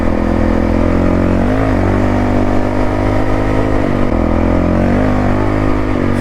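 A Honda CRF450L motorcycle engine roars loud and close as it revs to lift the front wheel off the ground on an offroad trail, with the engine note rising and dipping through several throttle blips over a steady, heavy drone.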